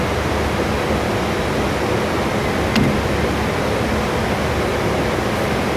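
Pump runs with a steady, broadband rushing hiss, constant and fairly loud, with a brief faint click partway through and no talking.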